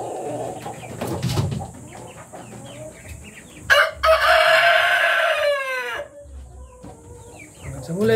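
A Rhode Island Red rooster in a breeder cage crows loudly once in a long, strained call, with softer clucks and farmyard noise before and after.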